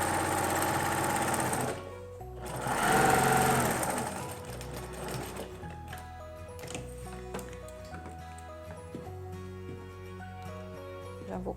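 A sewing machine stitches a Seminole patchwork table runner, a close steady motor whir with rapid needle ticking that surges loudly for a couple of seconds, then settles into a quieter, even hum.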